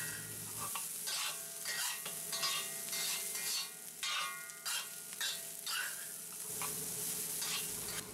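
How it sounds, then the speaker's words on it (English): Vegetables frying in a pan for a ramen noodle stir fry, with a continuous soft sizzle and regular scraping stir strokes, close, fairly quiet and uninterrupted by speech. "we add the other vegetables and fry them all until they're soft and tender"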